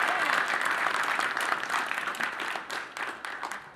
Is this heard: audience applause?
yes